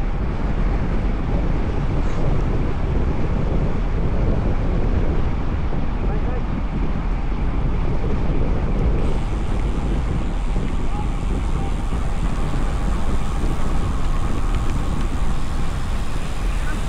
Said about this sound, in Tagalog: Grabe ng hangin yan. Katakot.